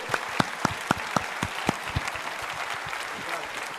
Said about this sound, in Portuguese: Dá uma salva de palmas aí para receber o pessoal lá.